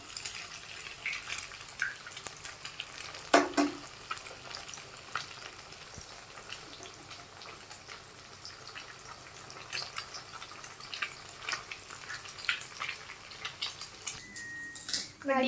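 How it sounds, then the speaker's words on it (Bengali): Steady crackling sizzle of eggs frying in a pan, with occasional clinks and soft background sounds, fairly close and continuous. "ডিম ডিমটা ভাজা ভাজা হয়ে গেছে"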